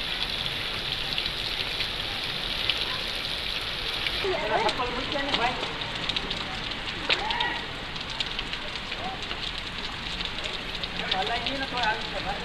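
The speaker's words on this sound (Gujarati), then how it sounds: "મહુવામાં ધોધમાર વરસાદ પડી રહ્યો છે" Steady, dense hiss of heavy monsoon rain pouring continuously in Mahuva, Gujarat, with a faint engine-like rumble underneath and a voice briefly audible.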